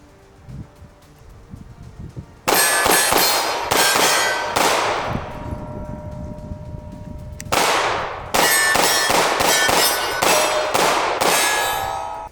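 Glock 43X pistol loaded from a Shield Arms magazine fires shots in two loud bursts, each a sharp crack with a ringing metallic decay, several rapid reports in sequence with no talking.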